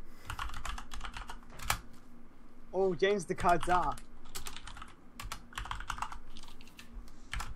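Rapid typing on a computer keyboard, dense irregular clusters of clicks nearly throughout, close and fairly quiet, with a voice speaking briefly over it in the middle.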